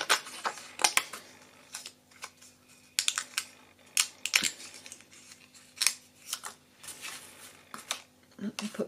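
Scissors snipping through paper while making Valentine lollipop gift packaging, with short crisp cuts in irregular bursts, close by and fairly quiet, with a little speech nearby.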